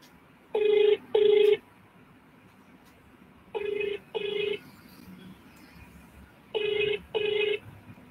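A telephone rings unanswered while calling a lucky draw winner: three pairs of double rings, each burst about half a second long, spaced by short gaps and clear over a faint background hum.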